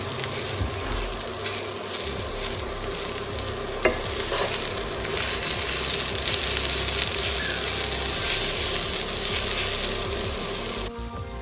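Vegetable cutlet mixture is stirred in a hot pan until thick, a steady sizzling hiss with soft scraping of the spoon, continuous and close with no talk.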